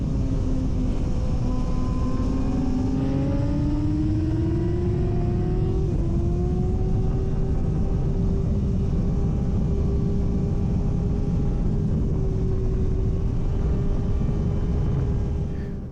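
A racing motorbike's engine roars onboard during an open class race at Donington, a continuous loud drone rising in pitch through the gears with steady wind rush, close throughout.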